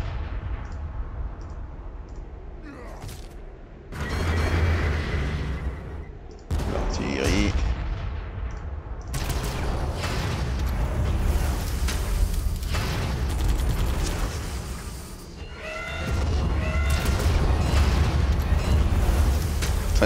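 Artillery fire in the strategy game Warhammer 40k Armageddon: repeated heavy booms and explosive blasts roll one after another over about twenty seconds, loud and dense, with brief quieter gaps between volleys.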